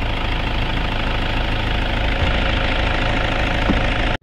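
A 2011 Toyota Fortuner engine idles steadily and loudly up close, a continuous even rumble with a slight knocking texture, cutting off abruptly at the end.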